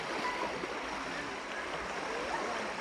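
A stream at Kalikesam near Kanyakumari, running with lower water but a strong current, makes a soft, steady rushing flow without a break.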